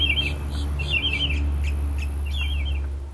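Birds chirping in the Heron Bay community, several short bright tweeting bursts repeating over a steady low background hum, moderately close and clear with no talk.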